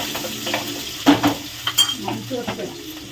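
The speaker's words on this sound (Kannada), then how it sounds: "ಎಣ್ಣೆ ಕಾದಿದೆ. ಇವಾಗ ಈರುಳ್ಳಿ ಹಾಕ್ತಾ ಇದ್ದಾರೆ." Onions frying in hot oil for a red chicken masala, a close sizzle with a few sharp stirring knocks and scrapes of a spoon in the pan, and no one speaking.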